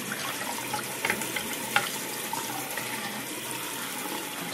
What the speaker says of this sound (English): And we'll go ahead and turn on the water.